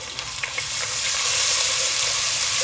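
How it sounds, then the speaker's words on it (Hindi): Ginger garlic paste with carom seeds fries in a pan for chickpea curry, giving a loud, steady, close sizzle with faint stirring scrapes and no voices. "अब यहाँ पे अदरक लहसुन का पेस्ट 1 चम्मच भर के डाल देंगे।"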